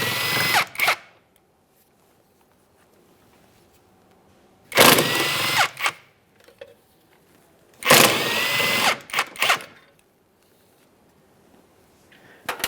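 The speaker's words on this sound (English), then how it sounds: "You're going to find that you have 6 mounting bolts, 3 on each side, and use a 16mm to remove these." A power tool, likely an impact driver, spins out the 16mm cross member mounting bolts on a 2011-2021 Jeep Grand Cherokee 3.6L V6. It sounds in three loud, close whirring bursts separated by quiet pauses, with short trailing rattles.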